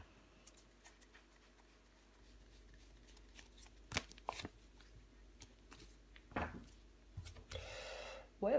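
Tarot cards handled and laid out on a surface, with faint soft slides, light taps and a brief shuffle-like rustle near the end, quiet and close with little else around.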